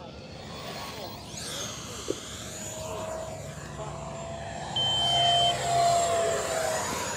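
An Arrows Viper 50mm RC electric ducted-fan jet flies past, a steady whooshing whine rising and falling in pitch as it sweeps around, growing louder toward the end, heard from the ground with no talk.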